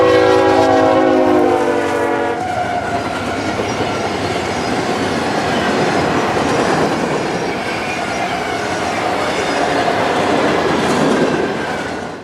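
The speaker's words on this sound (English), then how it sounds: "M381 is next through town with a manifest train out of Selkirk Yard bound for Syracuse" Manifest freight train M381, running from Selkirk Yard toward Syracuse through an upstate New York town, opens with a loud horn blast, then rumbles past close by with steady wheel noise and clatter.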